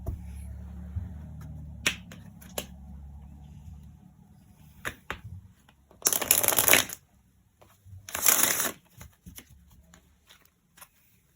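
Oracle cards being shuffled by hand during a tarot-style card reading, with a few soft taps and flicks, then two loud bursts of riffling card noise close to the microphone.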